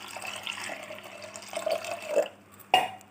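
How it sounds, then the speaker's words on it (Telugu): Water poured from a height into a pressure cooker holding raw toor dal, a steady splashing trickle with brief louder gurgles near the end, close and alone. "వాటర్ కూడా వేసుకుందాం."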